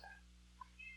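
A pet cat gives a short meow, then a faint second one, distant and quiet over a steady low hum in a room.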